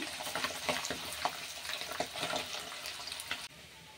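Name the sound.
chicken frying in groundnut oil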